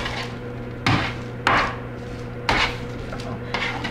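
Lentil patties being flipped in a cooking pan make four distinct knocking clatters spaced about a second apart, close and fairly loud over a steady sizzling hum.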